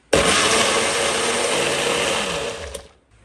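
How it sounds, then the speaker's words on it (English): Kitchen blender blitzing chimichurri sauce until fairly smooth, a loud, steady high-pitched motor whir starting abruptly and running for about three seconds before cutting off, close and alone. "I'm just going to give this a blitz until it's fairly smooth"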